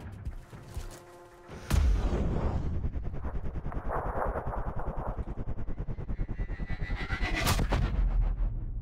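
A sniper rifle in a bow-and-ghost-warrior style shooter game fires one loud, sharp shot. A rumbling boom and echo roll on for several seconds, and a second blast follows near the end.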